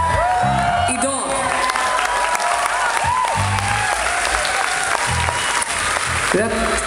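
A concert audience claps and cheers loudly throughout, with whoops and shouts rising from the crowd while a voice speaks over the applause at times.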